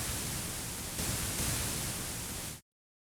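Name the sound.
noise waveform played on Wusik Station synthesizer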